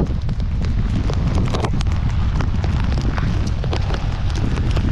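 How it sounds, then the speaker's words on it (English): Steady broadband rush of wind buffeting the microphone with dense patter of heavy, cold rain on a beach at Lincoln City, Oregon, continuous and loud throughout, no voices. "pouring down rain, quite windy"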